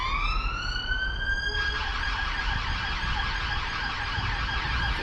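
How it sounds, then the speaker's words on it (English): A police car siren wails past near a riverside in Salford, a loud, rising and wavering tone over steady background rumble, with no talking. "I'm sure you'll be able to hear the police car going past."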